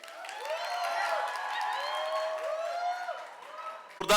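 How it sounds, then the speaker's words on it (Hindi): Audience at a Mumbai trailer-launch event for the Netflix series The Bads of Bollywood breaks into applause, cheers and whistles, a dense sustained crowd roar with rising whistle tones, loud and continuous before a sharp burst at the end. "तालियों के साथ, सीटियों के साथ तो अप्रिशिएट करना बनता है"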